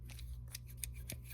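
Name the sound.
Crescent Wiss Tradesman shears opening and closing after tightening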